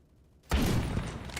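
Gunfire punches through a wall in the video game Phantom Forces, heard as a sudden, muffled burst that swells out of near silence and carries on as a rough, sustained roar.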